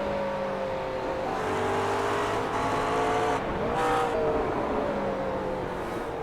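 McLaren GT3 race car engine in the iRacing sim at Barber, droning steadily and close with layered harmonic tones that rise and dip through gear changes, a brief surge near the middle, and no talking.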